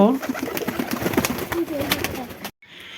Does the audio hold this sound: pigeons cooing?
yes